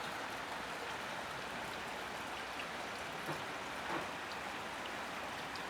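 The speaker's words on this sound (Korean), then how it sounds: "비가 내리고 있습니다." Rain falls steadily over mountain countryside about 600 m up, a soft, even hiss of drops that stays faint and unbroken throughout, with no voices.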